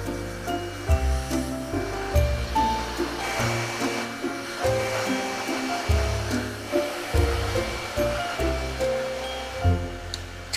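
A hair dryer blowing steadily while drying someone's wet hair, a loud continuous whooshing roar close by, with shifting tone as the airflow moves.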